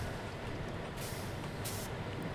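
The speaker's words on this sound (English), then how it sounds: "I love the sounds of trucks hissing when they come to a stop." Truck air brakes in the SnowRunner video game release two sharp bursts of hiss as the truck comes to a stop, set over a constant loud rumbling engine drone.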